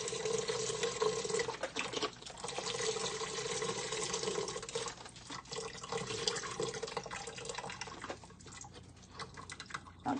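Vegetable broth for green lentil soup pours from a box into a pressure cooker as a continuous liquid gurgle and splash, with some uneven glugging pulses, close and fairly quiet, no talk over it.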